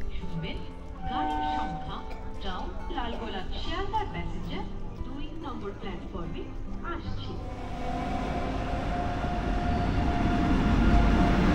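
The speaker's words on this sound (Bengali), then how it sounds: "তো চলো, ট্রেন চলে এসেছে, ট্রেনে উঠে পড়ি" Lalgola passenger train pulling into a busy station platform, its broad rumble swelling louder over the last few seconds beneath steady crowd chatter and voices.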